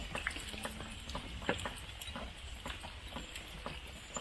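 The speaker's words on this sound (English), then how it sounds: "It's still bloody raining." Rain falling in woodland, scattered irregular drops pattering and tapping at close range over a soft, quiet background hiss, with no speech.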